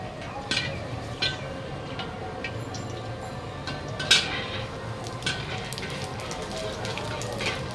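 Pieces of taro fry in hot oil with spices in a home kitchen, giving a steady broad sizzle with occasional clinks of a utensil against the pan.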